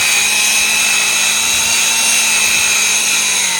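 Power drill with a buffing pad polishing a car headlight at light speed, a loud, steady, high-pitched motor whine with a tonal hum, close and continuous, without any talking.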